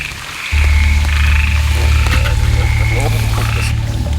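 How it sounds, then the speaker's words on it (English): Ornate narrow-mouthed frog, a small but very loud amphibian, calling in a biodiversity-rich forest at Amboli, a steady loud low croaking drone starting after a brief quiet moment and continuing throughout. "This is ornate narrow-mouthed frog, a small-sized amphibian, but probably the loudest of all."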